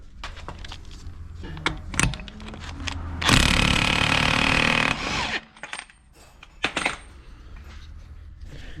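A pneumatic impact gun hammers a rusted bolt on the rear subframe of a BMW E36 328i coupe: one loud, rattling burst of about a second and a half, with scattered metallic clanks and taps before and after it.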